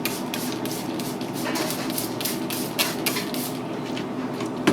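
A run of short hissing bursts from a water spray bottle repeats at an uneven pace close by, over a steady background hum, while hair is cut into a skin fade.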